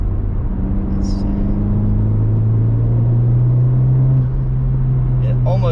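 A Honda Civic Type R FK8 turbo engine pulls under acceleration, a steady droning rumble from inside the cabin with the pitch climbing gradually.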